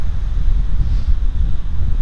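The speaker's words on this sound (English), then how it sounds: "the wind picks up just as I say that" Gusty wind buffets the microphone at an outdoor model airfield during flights of an Arrows 1800mm Husky RC plane, a steady low rumble that swells and dips throughout without any speech.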